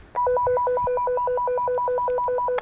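A telephone ringing: an electronic warbling trill that repeats quickly and evenly for about two and a half seconds, loud and close, with no voices.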